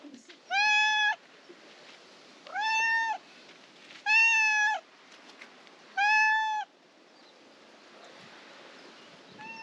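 A cat meows four times in a row, each call drawn out and clearly spaced about two seconds apart, close and fairly loud over a faint outdoor background of wind or distant surf in a Greek village on Ikaria.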